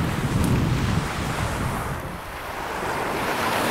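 Steady wind rushes across the microphone with a broad roar, mixed with the wash of waves nearby on the Kama River, no voices.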